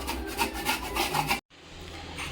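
Semolina, sugar and grated coconut mixture rubbed hard by hand in a pan, a steady rasping scrape repeating in strokes, cutting off briefly before resuming more softly.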